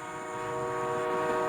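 A train runs along at speed while its whistle sounds in a sustained, steady tone over the continuous rumble of the cars.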